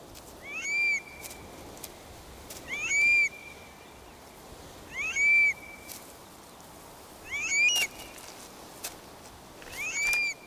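A curlew calling in open country: five clear, rising whistled calls repeated at steady intervals of about two seconds, fairly near, over a faint hiss of background noise and no talking.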